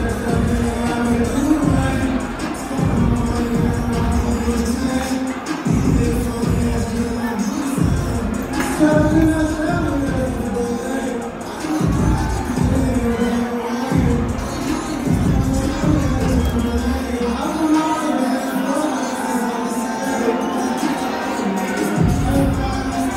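A live boxing crowd at a casino event murmurs and cheers steadily as fighter Ron Nicholson walks to the ring, with sharp rhythmic thumps and bangs cutting through the din at intervals.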